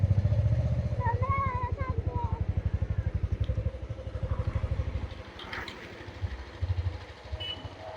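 Motorbike engine running with a fast pulsing throb, loud and close at first, then fading down into lighter road and wind noise with intermittent engine bursts.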